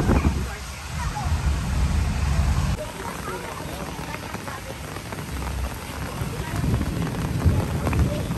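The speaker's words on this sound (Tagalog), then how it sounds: "Yan na, ang kulog." Steady rain patters loudly on surfaces at Club Punta Fuego in Nasugbu, Batangas, with low rumbling thunder swelling underneath in places and people talking nearby.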